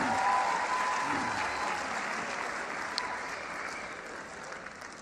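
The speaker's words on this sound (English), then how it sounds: "Give my daughter a round of applause" Applause from an audience at a motivational speaking event, loud at first and gradually thinning and fading over a few seconds, heard on its own.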